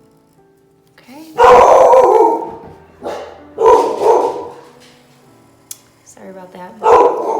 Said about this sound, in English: My dog is going crazy